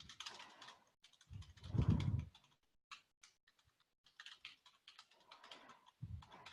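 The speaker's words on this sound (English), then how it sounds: "they can type in their written answers here" Quiet, close clatter of someone typing written answers on a computer keyboard, in short uneven bursts of keystrokes separated by pauses, with one louder muffled thump near the start.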